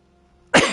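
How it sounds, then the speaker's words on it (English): A single sharp cough bursts out loud and close after a near-silent lead-in, spreading broadly with a rough, throaty tail during a PSVR2 session of Legendary Tales. "oh God, I've got a cough now"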